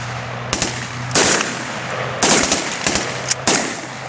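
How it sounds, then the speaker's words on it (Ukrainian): Loud, close bursts of machine gun fire crackle in several sharp clusters during an army training exercise, separated by brief pauses over a low background hum. "Затяжна кулеметна черга."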